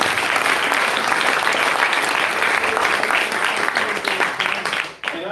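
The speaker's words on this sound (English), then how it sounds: "let's give Lila a massive round of applause." A crowd at a climate forum in New Hampshire gives Lila a big round of applause. The clapping is loud, dense and sustained, with a voice or two mixed in, before it fades sharply near the end.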